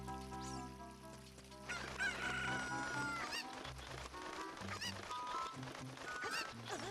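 A Cucco chicken in Ocarina of Time clucks among busy game music and effects, with the bird's calls mixed into a dense, steady backdrop.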